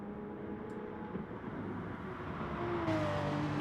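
Racing cars in Gran Turismo Sport sweep through a corner at Brands Hatch, a faint continuous engine whine that builds slightly as one car's pitch rises near the end.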